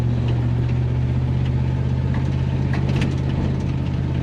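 An old 1975 Chevrolet K10 pickup truck engine runs steadily while driving, a loud low rumble with a constant hum and road noise filling the cabin, no voices.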